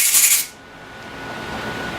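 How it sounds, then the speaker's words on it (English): A strong burst of compressed air hisses from an air hose into a Marvel Schebler carburetor for about half a second, then drops to a faint, steady background hiss. "I'll keep my air hose ready"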